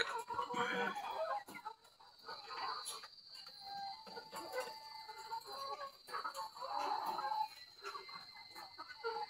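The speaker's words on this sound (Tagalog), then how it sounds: "Ito yung mga alagang manok." Chickens cluck and call in scattered bursts at moderate distance, over a steady high-pitched insect-like whine.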